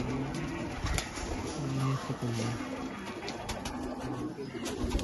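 Pigeons of an old Machli Shahar lineage coo in repeated low, throaty phrases, several overlapping calls close by over faint background rumble and scattered clicks.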